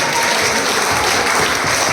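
Audience applause at a residents' association general body meeting in an apartment complex, a dense steady clapping from a room of people lasting the full two seconds.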